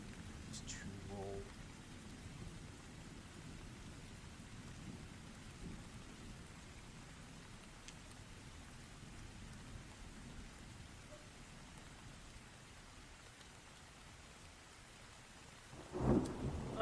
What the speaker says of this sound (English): Oh, the sound of the thunderstorm?